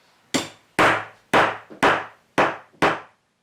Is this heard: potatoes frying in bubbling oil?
no